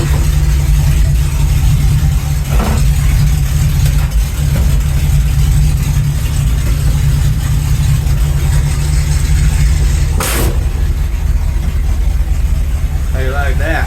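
A Chevrolet C10 pickup's engine runs at a loud, steady idle with a deep rumble throughout, while a voice speaks over it at moments.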